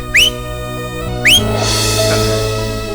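A person gives two sharp, loud rising whistles about a second apart, followed by a sustained hissing noise.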